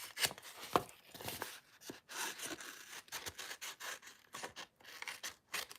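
A paper trimmer slices through card stock with repeated rubbing, scraping strokes, close and fairly quiet, continuing in uneven bursts with short pauses.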